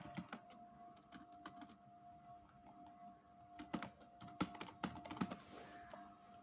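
Typing on a computer keyboard while entering a page title in a WordPress editor: quick clusters of soft, close key clicks in irregular bursts with short pauses, heard alone without any speech.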